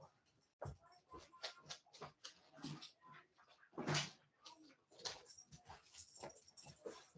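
A dog knocks a bag over indoors: a sharp rustling thud amid the dog's whimpers, yips and scrabbling, with people talking throughout.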